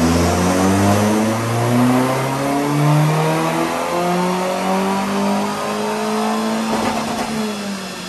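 A turbocharged Mitsubishi Colt Ralliart with a 4G15T MIVEC engine revs hard on a dyno during a power run, climbing steadily through the gears with a loud, sustained rising engine note and no talking.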